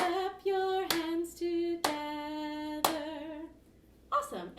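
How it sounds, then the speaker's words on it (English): Hands clap in a steady beat during a children's Orff music lesson, several sharp claps spaced about a second apart, each followed by a sung tone ringing on, close and clear. "Clap, clap, clap your hands. Clap your hands together."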